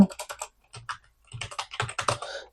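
Code being typed on a computer keyboard, quick clusters of close clicking keystrokes with short pauses between bursts, alone without speech.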